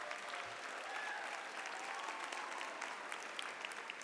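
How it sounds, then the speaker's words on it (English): A university convocation audience applauds alumni with a broad, even wash of clapping from a large crowd, steady and sustained at a moderate distance without a break. "Give our alumni a round of applause,"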